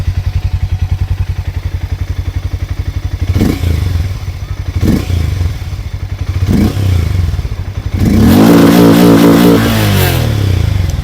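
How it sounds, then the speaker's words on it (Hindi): A Hero Mavrick 440 motorcycle engine idles close by with a loud, rapid thumping pulse, blipped several times into short revs, then pulled into a sustained rise in pitch near the end. "अब दोस्तों यहाँ पर जो मैवरिक की साउंड है वो भी आप लोग सुन लीजिए।"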